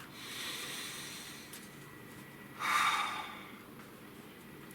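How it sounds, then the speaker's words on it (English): A single slow, deep breath drawn in and let out close to the microphone, soft and airy over a faint background hiss, with no talking. "Nice deep breath."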